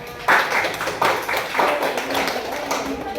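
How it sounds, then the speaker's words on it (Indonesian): Students in a classroom clapping for their classmates after a group presents math answers, a burst of scattered hand claps starting abruptly, with a few rhythmic pulses, close and moderately loud in a small room. "tepuk tangan untuk teman-teman"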